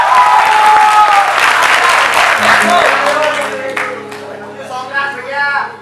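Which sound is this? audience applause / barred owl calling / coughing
audience applause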